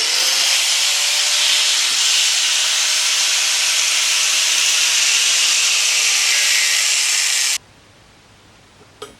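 A loud, steady power-tool noise cutting metal plate, with a harsh grinding hiss, runs for about seven seconds, then cuts off abruptly into near silence.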